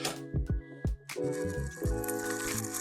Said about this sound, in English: you can see there it's starting to drip through